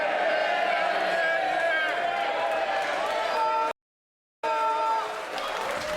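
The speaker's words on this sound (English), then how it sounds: "Clapping isn't going to assist it." Clapping fills the House of Commons chamber as a broad, continuous patter behind a speaking voice, cut off by a short silence before it picks up again.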